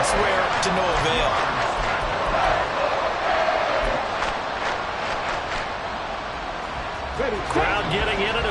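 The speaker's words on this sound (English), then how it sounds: "Crowd getting in it a bit already." A stadium crowd in the Madden 24 football video game roars steadily at moderate level, a broad, sustained swell of cheering that eases slightly late on, with voices audible.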